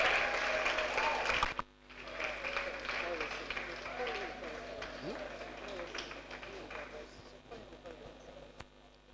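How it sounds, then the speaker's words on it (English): An audience at a World Sickle Cell Day school event applauds Reverend Mark Oladejo, with a strong burst that cuts off sharply and is followed by softer, scattered clapping under background talk. "So I want you to put a round of applause for no other person but Reverend Mark Oladejo"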